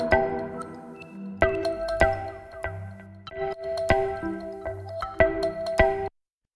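Layered synths from the hard chain group of a remix, built in Ableton, play a busy electronic pattern of plucky tonal hits, sustained pitched tones and percussive ticks, steady and loud until stopping abruptly near the end.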